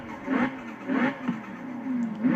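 A car engine in Forza Horizon 4, on a fully upgraded wide-body car, revs up in repeated bursts, roughly three surges with a mid-pitched whine rising and falling between them.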